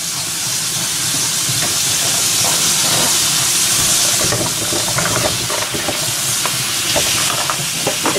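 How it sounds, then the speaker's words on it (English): Vegetables with celery and grated carrot cooking in a pan, a loud, dense, continuous sizzle and hissing steam with faint stirring scrapes, no voices. "Do you want me to start cooking up the vegetables and stuff?"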